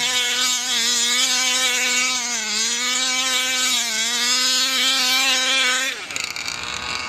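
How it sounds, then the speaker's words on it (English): A methanol-fuelled Kraken engine with a ported Velsa throttle body runs at full throttle with a loud, steady, buzzing high-pitched drone that wavers slightly, then drops off abruptly near the end. "That was a good 5-6 seconds, full throttle, holding its idle, getting heat in the motor."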